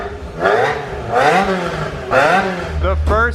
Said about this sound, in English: All right, tiny little rev.